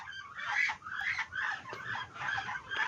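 Turkeys and ducks kept as backyard poultry, with a steady run of gobbling and quacking calls close by, repeating in short overlapping bursts with no talk.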